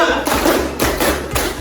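A classroom of students claps hands together in a counted rhythm, three loud, evenly spaced group claps close by.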